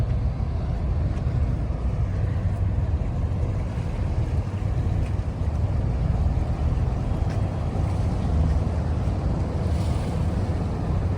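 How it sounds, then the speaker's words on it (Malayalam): A ferry departing Portsmouth harbour, heard as a steady, loud wash of water and wind noise across the microphone with a low rumble underneath, continuous and without speech. "ഇവിടുന്ന് ഒരു ഫെറി സ്റ്റാർട്ട് ചെയ്തിട്ടുണ്ട്"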